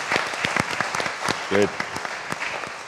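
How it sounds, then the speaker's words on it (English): Audience applause at a summit session on India–Africa collaboration, moderately loud with distinct individual claps, briefly under a short spoken word. "give yourselves a round of applause."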